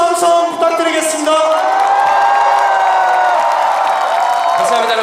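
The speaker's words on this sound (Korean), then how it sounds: "다시 한번 뜨거운 박수 한 손 부탁드리겠습니다" A huge candlelight rally crowd calling for President Park Geun-hye's impeachment cheers and applauds loudly, with sustained shouting and whooping voices close and all around for several seconds.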